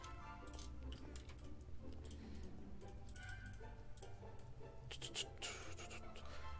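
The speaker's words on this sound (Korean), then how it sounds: "마이크 위치가 좀 약간 마우스 소리가 많이 크게 잡히는 위치겠다" Rapid, light computer mouse clicking at a desk, quick irregular clicks close to the microphone during Minecraft play, with a faint hum beneath.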